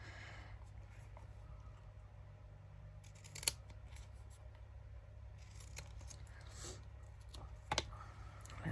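Scissors trimming a faux metal junk journal craft piece, heard as two sharp, faint snips spaced a few seconds apart over a quiet, steady background hum.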